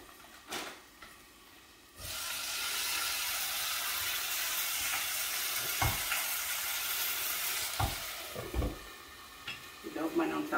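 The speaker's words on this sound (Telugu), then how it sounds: "ఇదో మనం తాలింపు కూడా పెట్టేసి రెడీ చేసుకుందాం" Tempering hits hot oil in a pan for ivy gourd chutney, bursting into a loud, steady sizzle after two seconds that runs to the end, with occasional knocks and scrapes of stirring up close.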